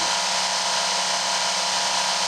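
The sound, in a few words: Work Sharp knife sharpener running at set speed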